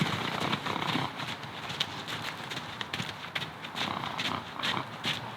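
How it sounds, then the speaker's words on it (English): Rhythmic clip-clop of horse hooves trotting on firm ground, steady and fairly close, with faint background noise. "It's a nice lofty trot."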